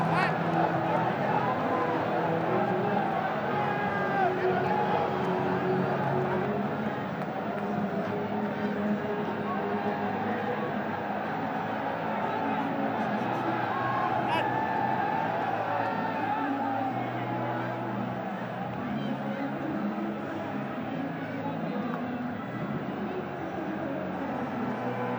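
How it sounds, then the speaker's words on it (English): A cricket stadium crowd at a Bangladesh Premier League match between Fortune Barishal and Rangpur Riders murmurs and cheers steadily throughout, a broad distant roar beneath continuous commentary. "Crowd still enjoying themselves, can feel it in the air"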